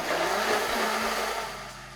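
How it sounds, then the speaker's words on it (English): A blender whirs steadily and close by, blending cauliflower with milk and garlic powder, its buzzing motor fading slightly toward the end. "We'll add milk and garlic powder, not garlic salt, and blend until it's smooth."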